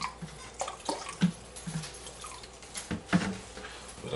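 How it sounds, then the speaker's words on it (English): Vinegar is poured over cut raw chicken pieces for curried chicken, a soft run of splashing and dripping patter with a few sharper splashes, close by and fairly quiet, with no talking. "I'll now add a half a cup of vinegar"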